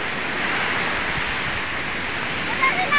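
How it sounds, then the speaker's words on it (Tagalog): Strong ocean waves breaking at a beach in Agoo, La Union, a loud continuous roaring wash of surf filling the whole moment, with a faint voice near the end. "Sobrang lakas kasi ng alon"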